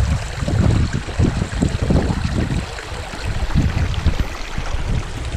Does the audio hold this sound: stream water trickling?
yes